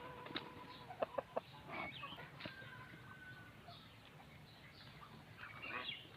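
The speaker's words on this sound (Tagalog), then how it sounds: "Tapos ano po yung ating mga asil chicken." Asil breed chickens clucking on a farm, several short close calls in an irregular run with some louder sharp clucks near the start and more calling toward the end, over a low background hum.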